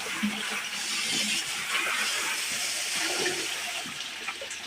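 Water rushes steadily as gold cubing material is rinsed into a bucket outdoors, a continuous close splashing wash with no talk.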